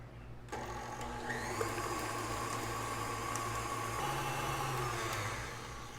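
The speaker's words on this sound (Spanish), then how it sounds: "Voy a detener un poquito la batidora para raspar muy bien en los lados" An electric mixer whirs steadily after switching on, a continuous motorized drone with slight shifts in pitch as it beats butter and egg into a thick cookie batter.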